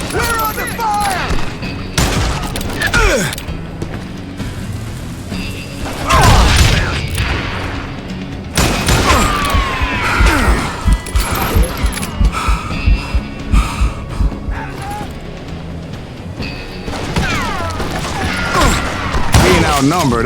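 Repeated gunfire in a shootout from the Western video game Call of Juarez Gunslinger, with shots, impacts and booms spread across a busy, loud mix under spoken dialogue and game sounds.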